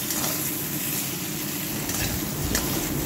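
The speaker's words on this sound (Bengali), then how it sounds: "পটলটাকে তো খোলা ছাড়িয়ে নিয়েছি, নিয়ে সাদা তেলের মধ্যে ফ্রাই করে নিচ্ছি" Peeled pointed gourd (potol) frying in white oil with salt and turmeric, a steady broadband sizzle that stays even throughout with a few brief sharper crackles, close and continuous with no talking.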